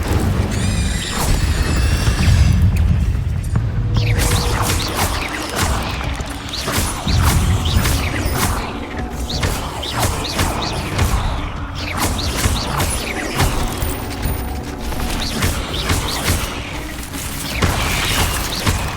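A Hogwarts Legacy duel in which Incendio fire spells are cast again and again, with loud whooshing bursts and crashing impacts layered over a steady, busy wash of game music and effects.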